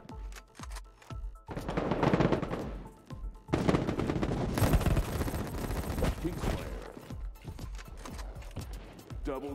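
Rapid bursts of gunfire in the mobile shooter Battle Prime, dense fusillades and machine-gun rattles packed close together, loud and continuous through the middle, with scattered single shots at the start and end.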